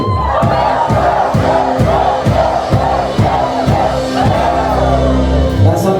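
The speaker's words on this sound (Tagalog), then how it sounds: "Siyam na sigaw ng tagumpay para kay Lord." A church congregation at a Filipino worship gathering shouts loud victory cries praising the Lord, a rapid rhythmic series of massed group shouts in quick succession, filling the room for the whole stretch.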